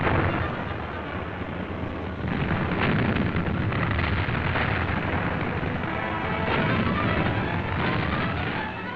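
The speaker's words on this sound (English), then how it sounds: "artillery rained shells on the German-held San Leonardo" Artillery shelling on German-held San Leonardo in a 1943 Canadian Army newsreel, a dense continuous roar of booms and rumbling bursts, loud and sustained throughout on an old, noisy recording.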